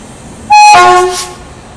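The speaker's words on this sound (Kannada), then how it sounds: "ಸೊ ನೋಡಿ ಬಂತು ನಮ್ಮ ಗಾಡಿ ಜೋಗ್ ಬನ್ನಿ ಈ ರೋಡ್ ಅಮೃತ್ ಭಾರತ್ ಎಕ್ಸ್ಪ್ರೆಸ್" The Jogbani–Erode Amrit Bharat Express arriving at a station sounds one loud, close horn blast lasting under a second before fading into the background rumble.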